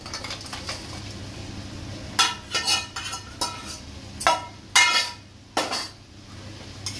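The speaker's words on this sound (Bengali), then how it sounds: "এইটা দিয়ে একটু ভালোভাবে নাড়িয়ে নেব।" A spoon stirs fried fish heads into cooked-down spices in a metal cooking pan, giving several sharp scraping clinks in irregular bursts, close and clear over a faint sizzling background.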